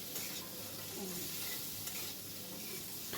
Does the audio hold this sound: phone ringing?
no